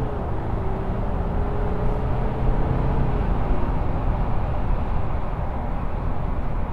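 Interior drone of a VW Amarok 3.0 V6 TDI diesel pickup accelerating in drive, with a steady engine and road rumble and a faint rising tone as the gearbox kicks down, continuous and fairly loud throughout.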